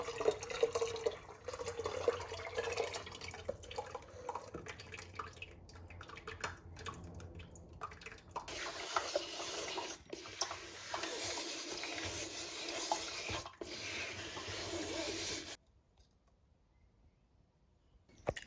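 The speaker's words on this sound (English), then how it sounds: "I mix it a bit before running it through the fine mesh sieve to make sure it's completely combined" Liquid pottery glaze being mixed and poured through a fine mesh sieve in a pottery workshop, giving a steady wet dripping and trickling wash that runs continuously, briefly louder, then stops near the end.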